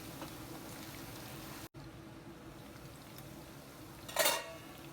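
Food is stirred and fried in a pan for home-cooked guest dishes, giving a steady soft sizzle with light scraping and one brief metallic clatter of a utensil against the pan.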